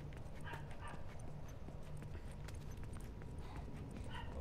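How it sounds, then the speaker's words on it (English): A dog barks faintly in the distance indoors, with a few soft, scattered yips and barks under low background rumble and light tapping. "If you hear that barking faintly"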